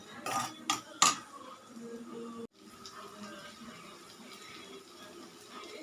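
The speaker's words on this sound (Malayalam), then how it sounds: "ഒരു പകുതി സവാള, കുറച്ച് ഉള്ളി ഇട്ട് കൊടുക്കാം. അത് നല്ലോണം വാട്ടിയെടുക്കാം." Onion and shallots go into a pan for sautéing, with three quick metallic clinks of a utensil against the pan, then a soft, steady low sizzle that continues after a brief gap.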